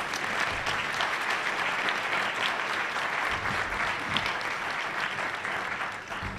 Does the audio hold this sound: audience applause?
yes